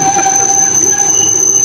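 A streetcar runs along rails through a Tokyo neighborhood, its wheels squealing with a loud, sustained high-pitched tone over a steady low rumble of rolling metal, close by and uninterrupted for the whole short stretch.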